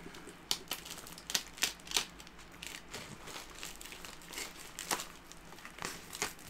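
Unboxing a package holding a glass plate, with packaging crinkling and crackling in quick close rustles and sharp bursts, fairly quiet and with no speech.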